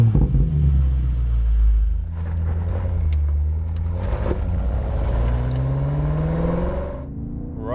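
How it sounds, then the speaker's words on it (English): A USA-spec BMW X6M Competition V8 revs hard and loud for the whole stretch, a deep rumbling engine note rising and falling in steady sweeps with no talk over it. "Immediately you can hear the V8 sounding really, really good."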